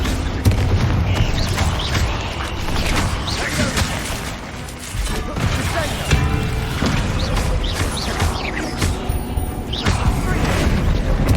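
Repeated Confringo blasting spells in the Hogwarts Legacy video game erupt in loud booms and crashes, overlapping bursts of explosive impact amid a busy battle din, with voices shouting over the chaos.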